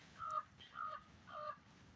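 Three short caws repeat at an even pace, thin and oddly pitched with a flat, electronic edge, like a toy crow call.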